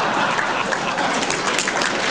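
An audience applauds at a talk on world civilisation, a dense steady patter of clapping that fills the moment without pause.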